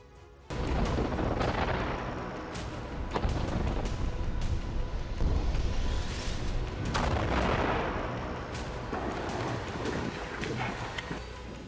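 Tank shells and heavy gunfire in the streets of Khan Younis, Gaza, a loud, dense barrage of booming blasts and sharp cracks rolling continuously with no voices.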